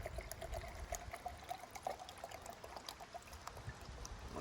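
Water pouring from a bottle into a graduated cooking pot outdoors on a hike, a steady thin trickle and splash running continuously at close range, with a faint hum in the background.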